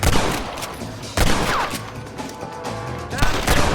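Gunfire in the video game Red Dead Redemption crackles as a dense, continuous fusillade with repeated sharp shots, loud and close throughout the whole stretch.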